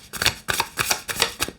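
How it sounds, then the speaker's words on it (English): A deck of tarot cards is shuffled up close in quick riffling bursts, about five brisk passes in a row. "let me just make sure I shuffle the cards because they're all reversed"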